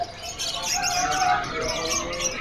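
An oriental magpie-robin, a young male kacer offered at a bird shop, gives a string of chirping whistles and warbling notes, fairly close and steady, over a busy background hum.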